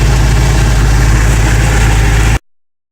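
A 1927 Ford hotrod with a C10 automatic transmission and a transmission fluid leak idles loudly and steadily up close, then the sound cuts off abruptly near the end.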